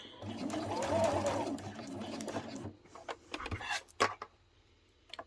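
A home sewing machine back stitching a beginner flat fabric pouch, a steady mechanical whir for about three seconds, then stopping, followed by a few close clicks and handling taps.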